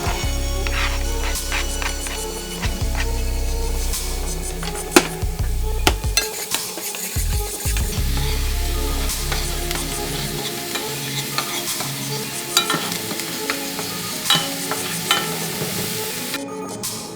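Aromatics hit hot ghee in a pan for curry rice and give a loud, continuous sizzle, with scraping and clattering stir strokes repeated throughout as the frying settles.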